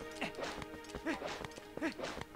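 Faint rhythmic hoofbeats of a horse arriving in The Legend of Zelda: Twilight Princess clip-clop steadily, with soft tonal whinny-like sounds mixed in, quiet and somewhat distant.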